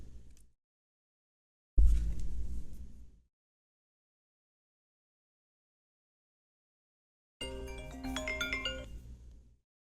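A phone rings out during a test call in short electronic bursts separated by long silences. The last burst is a brighter, melodic chime, loud and close, with no voices.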